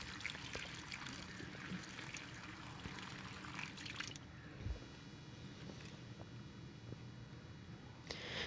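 Oranges (maltas) being washed in water in a basket, a steady pouring and splashing of water with soft handling noises, fairly faint and continuous.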